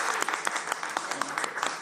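Game show studio audience clapping, a short burst of lively, close applause from a small crowd.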